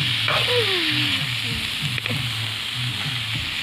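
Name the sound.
sizzling of spice tempering in hot oil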